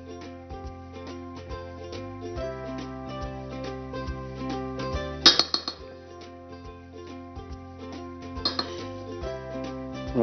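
Utensils mix ingredients in a bowl, giving scattered metallic clinks and taps against the dish. A louder cluster of clinks comes midway, all under steady background music.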